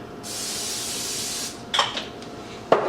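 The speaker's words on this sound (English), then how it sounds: "So spray the pan again." A steady hiss of cooking spray on a pancake pan for about a second, followed by a few light metallic clinks of the pan.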